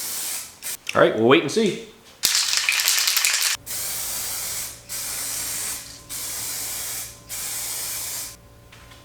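Clear coat sprayed from a can onto a Porsche 996 Turbo part in several short bursts, loud broadband hiss with brief pauses between passes, with someone speaking briefly beforehand.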